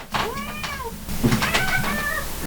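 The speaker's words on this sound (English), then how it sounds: "You meow, you get picked up." A cat meows twice in quick succession, close and clear, with drawn-out plaintive calls over a low background hum.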